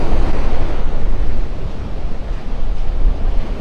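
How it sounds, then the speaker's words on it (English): Ocean waves breaking along the shore at Vanderbilt Beach in North Naples, a loud, continuous rumbling wash of surf mixed with gusty wind buffeting the microphone, no voices. "The waves are a little bigger here along the shore than they were up at Del Norwegians"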